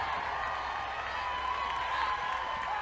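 A softball crowd at an Oklahoma vs Arkansas women's game keeps up a steady, distant cheer after a hit, a sustained wash of voices and applause with no single standout shout.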